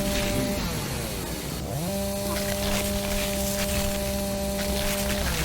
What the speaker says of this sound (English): Chainsaw duel?